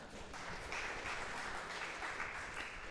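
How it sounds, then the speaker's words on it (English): A congregation-style audience at a humanist community gathering gives quiet, distant clapping, a soft even patter of many hands that holds steady without any talk over it. "Yes, go ahead and clap."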